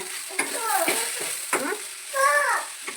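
Home-kitchen frying being stirred in a pan with chilli powder, likely okra palya: soft scraping and sizzling under a voice talking throughout, with a few brighter clinks.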